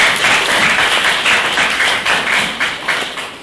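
Students in a classroom break into applause, a close, loud burst of many hands clapping that keeps a loose rhythmic patter before tapering slightly at the end.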